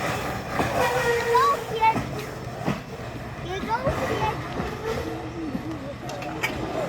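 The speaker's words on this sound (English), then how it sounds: "And off goes a grain train." Grain train rolling past a crossing on a pedestrian path in a park, a steady rumble with wheel clatter and scattered squeals, with people talking over it.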